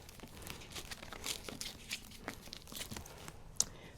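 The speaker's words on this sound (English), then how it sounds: "Let's get her unwrapped." A new Coach Rogue 31 leather handbag is unwrapped from its packaging, with close, quiet crinkling and rustling of wrapping material in irregular bursts and a brief tearing rip near the end.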